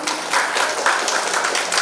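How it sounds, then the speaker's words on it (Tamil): Audience applause at a women's astrology conference, a steady wash of many hands clapping for a visiting monastery head, dense and even throughout the brief stretch. "அனைவருடைய கரகோஷத்தின் பேரில்"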